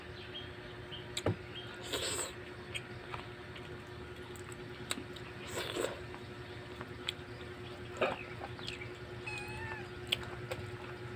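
Several short cat meows, faint and spaced apart, over a quiet, steady background hum.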